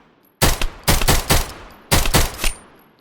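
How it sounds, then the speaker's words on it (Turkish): Rapid bursts of gunfire from a modded weapon in a zombie video game, several loud clusters of quick shots separated by short pauses, with no talk over them. "Şuradan bir zombiye sıkalım."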